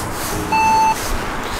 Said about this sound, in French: ce que vous entendez c'est les passages piétons. Ils ont fait un système de bip pour que les aveugles puissent savoir qu'on passait